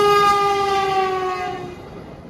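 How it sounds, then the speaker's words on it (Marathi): A Vande Bharat express train sounds a long, loud harmonic horn blast near Kamshet that slowly fades as the train passes, with rail rumble underneath and no talking. "ट्रेन आली, ट्रेन यायला लागली."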